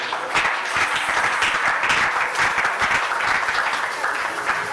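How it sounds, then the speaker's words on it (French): A church congregation bursts into applause, a dense, steady wash of many hands clapping close by that holds evenly throughout. "Est-ce que tu peux acclamer?"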